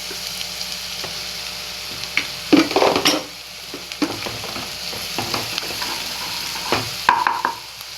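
Egg frying in a pan, a steady close sizzle with stirring scrapes and a couple of louder bursts of spitting oil.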